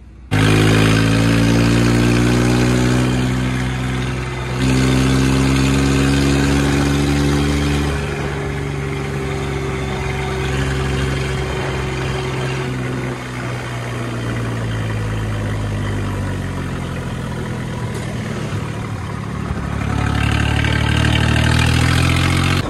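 A Swaraj 855 tractor engine runs close by, a loud, steady diesel idle with a deep rhythmic throb, dipping briefly in pitch and load a few times before settling back, with no talking.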